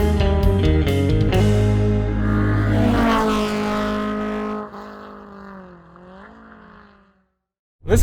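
A 2020 Mercedes-AMG G63 with its V8 engine growling loudly on a drive, revs climbing and holding, then easing off and falling quiet before a short roar returns at the very end.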